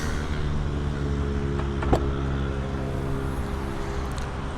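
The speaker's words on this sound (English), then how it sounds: "let's just unlock the car again." A Peugeot 2008 is unlocked with a brief click at about two seconds, heard over a steady low engine or ventilation hum.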